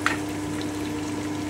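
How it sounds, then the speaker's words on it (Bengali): Chopped onion fries in a pan for egg fried rice, giving a steady, soft sizzling hiss that stays even throughout, heard up close with no voices. "আমি 2-3 মিনিট একটু হালকা ফ্রাই করে নিচ্ছি।"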